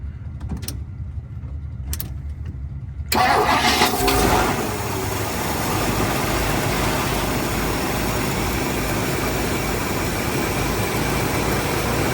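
A 1959 Ford Fairlane V8 with a newly replaced fuel pump and line fires up after a few quiet clicks, then runs loud and steady at a raised, throttled idle for about nine seconds.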